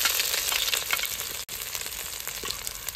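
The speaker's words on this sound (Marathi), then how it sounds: "आपलं तेल तापलेले, आपण आता अर्धा चमचा जिरे टाकून घ्यायचे, बारीक चिरलेलं आलं" Cumin seeds and finely chopped ginger sizzle in hot oil in a kadhai, a bright, dense crackling hiss that runs steadily and close throughout, with one instant dropout midway and no voices.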